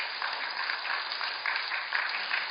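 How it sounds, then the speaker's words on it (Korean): A congregation at a church prayer-retreat revival service claps together, a dense, steady wash of applause at moderate loudness with no talking. "힘내라고 박수 쳐주세요"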